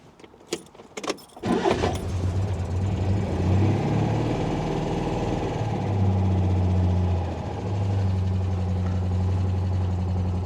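A Citroen 2CV engine cranks on full choke with a couple of short clicks and bursts, then catches and settles into a loud, steady, close idle.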